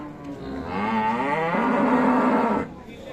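A Friesian dairy cow at a rural cattle market in Dinajpur, Bangladesh, lets out one long, loud, close moo that rises and holds before cutting off, with a quiet background around it.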